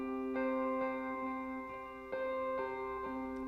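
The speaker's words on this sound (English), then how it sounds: "And then there's also some rhythm in the bridge, which sounds like this." Rhythm electric guitar in a bridge section, repeated chord stabs every half second or so, each ringing into long delay repeats that smear into a steady sustained wash, moderately loud with no voices.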